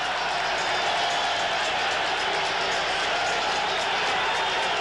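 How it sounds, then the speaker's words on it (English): A huge arena crowd at the Sugar Ray Leonard vs Roberto Durán boxing match roars and applauds as the fighters enter. The ovation is a dense, continuous wash of noise, loud and unbroken throughout. "What an ovation. Listen to this crowd."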